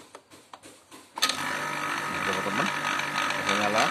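The compressor of an LG outdoor air conditioner unit, which had been overheating, starts up after an oil change. A few light mechanical clicks lead into a loud, steady rattling hum that keeps running.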